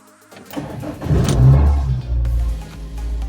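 A car engine cranks and catches, then revs up loudly with a deep rumble before settling into a steady idle; the car is being checked before a holiday road trip.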